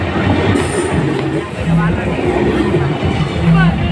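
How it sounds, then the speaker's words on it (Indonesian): An Indonesian KRL Commuter Line train rumbles loudly close by, wheels clattering steadily as it rolls into the station, with an Indonesian public announcement voice over the noise. "akan segera masuk jalur 1 sebagai K1520 rangkaian terdiri dari 8 rangkaian kereta"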